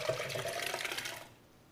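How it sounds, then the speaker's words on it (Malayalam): Cooled, cooked grape mixture is poured into a mixer jar, a close, thick liquid glug and splash that runs for about a second before stopping. "ഇനി നമുക്ക് ഇതൊരു മിക്സിയുടെ ജാറിലേക്ക് ഒഴിക്കാം"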